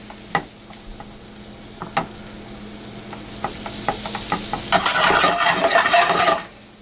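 Two tablespoons of butter swirl and sizzle in a frying pan, a soft steady fry broken by light taps and scrapes of a utensil against the pan, with the sizzle growing louder and busier toward the end.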